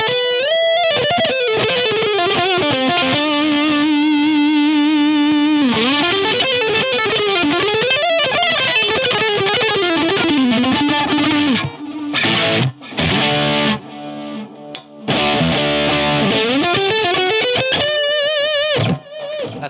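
A Harley Benton Fusion electric guitar shreds fast runs through heavy distortion, with rapid bending notes and sustained lead lines, broken by a few brief stops near the end.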